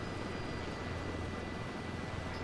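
A video game helicopter drones with a steady, dense rotor and engine roar, constant and close, with no speech.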